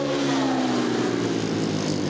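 Speedway motorcycles with modified tyres race on a thick sheet of frozen rink ice at a regional ice speedway meet, their engines screaming loud and close in a continuous rising whine as they rip past.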